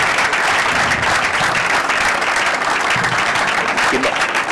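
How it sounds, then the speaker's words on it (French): Mourners at a funeral tribute applaud together, a dense, steady wash of clapping that holds loud and unbroken throughout, with a few voices faintly audible beneath. "se mettre debout pour qu'on l'applaudisse pour une dernière fois"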